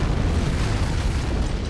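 An antimatter charge explodes aboard a ship in the Halo video game, heard as a heavy, sustained low rumbling boom that rolls on with dense, constant noise and no voices.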